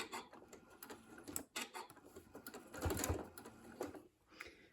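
A sewing machine stitches a quilt pinwheel block in short runs of rapid mechanical clatter, pausing briefly and starting again, close and moderately loud with no talking.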